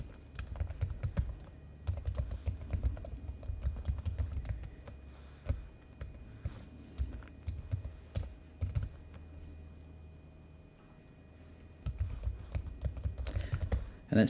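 Someone types a custom CSS rule on a computer keyboard, close up, with bursts of quick key clicks separated by short pauses and a longer quiet stretch in the middle.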